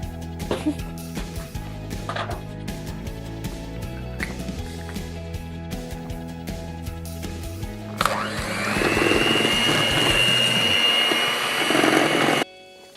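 An electric mixer whirs loudly as it beats butter, sugar and egg into muffin batter, starting abruptly after a stretch of quieter kitchen sounds with clatter, then running steadily close by before cutting off.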